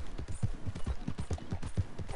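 A horse's hooves clip-clop in the Red Dead Redemption 2 video game, a steady rapid trotting rhythm of soft, even thuds throughout with no talk over it.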